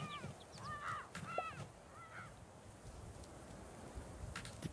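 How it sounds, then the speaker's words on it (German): Crows in the video game Garden Witch Life give several harsh caws in quick succession, faint and slightly distant, over quiet outdoor ambience, then fall silent. "Die Krähen klingen, als hätte jemand es persönlich selber synchronisiert."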